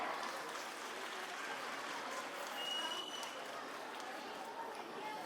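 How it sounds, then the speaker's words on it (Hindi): Loud, dense applause from the audience at a school's annual cultural function, honoring schoolgirls being awarded medals, forming a steady wash of clapping that holds evenly for the whole stretch. "आप इन बच्चियों के सम्मान में जोरदार तालियां बजाएं"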